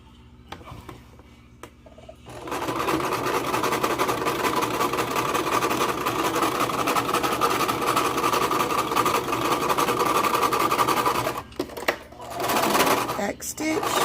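A sewing machine stitches in the ditch on a quilt-as-you-go quilt. It sets in with a steady, fast mechanical whir that runs for about nine seconds, then stops, and short bursts of stitching follow.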